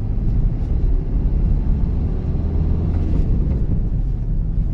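From inside a 2019 Maruti Suzuki Ertiga ZDi 1.5 L diesel cruising in third gear, a constant deep engine drone and road rumble fills the cabin, even and fairly loud throughout with no voices.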